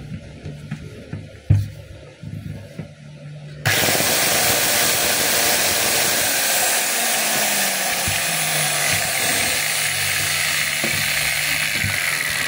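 DeWalt DWE493 7-inch angle grinder, a unit with a sparking fault: a few handling clicks, then the motor starts abruptly and runs at a steady, loud whine to the end.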